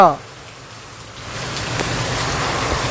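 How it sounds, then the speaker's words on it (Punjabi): Steady, dense rain noise building after a brief tone at the start, loud and continuous, with a broad rushing wash of wind-driven downpour in a storm in Rajasthan. "ਪੂਰੇ ਝੱਖੜ ਦੇ ਨਾਲ ਤੇਜ਼ ਹਵਾ ਦੇ ਵਿੱਚ ਉਤਰ ਪਿਆ ਮੀਂਹ ਪੂਰਾ ਜ਼ੋਰ ਦਾ"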